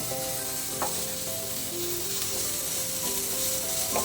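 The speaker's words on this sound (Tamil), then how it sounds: "மல்லித்தலை போட்டுடலாம் லைட்டாக வதங்கினா போதும்" Coriander leaves sauté lightly in a hot pan while making an egg vegetable bread dish, giving a steady, close sizzle that holds even and unbroken throughout.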